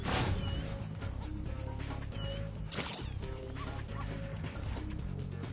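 Dog barks and yips in Spyro Reignited Trilogy, repeated short calls over a busy, continuous game soundtrack and ambience, fairly loud and steady throughout.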